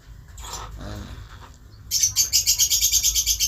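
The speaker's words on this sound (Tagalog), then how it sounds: "Ang ingay ng ano dito, ibon" Rapid, repeated bird chirps burst in partway through, close and fairly loud, following a quieter stretch of faint mumbling and background noise.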